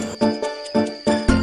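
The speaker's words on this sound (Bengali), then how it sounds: "ঝিঝি পোকার ডাক ছাড়া তো কিছু শুনতে পাচ্ছি না।" Crickets chirp in steady repeating pulses, about five bursts with short gaps, fairly close and alone.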